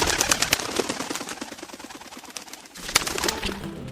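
Pigeons kept for training coo repeatedly nearby with soft fluttering and rustling, a busy cluster of calls easing midway and then picking up again, with no talk.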